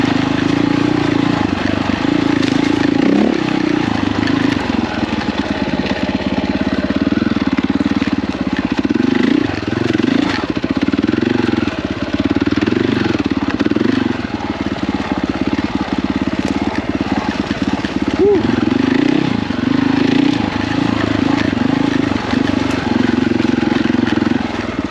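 KTM 450 dirt bike engine droning steadily and loud up close while riding tight single track, with throttle rising and falling through the turns and no talk.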